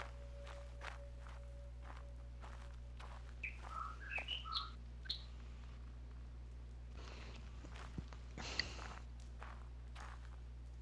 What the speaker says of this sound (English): I'm gonna be hearing frickin' bird sounds in my sleep.